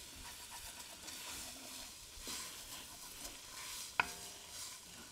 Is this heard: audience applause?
no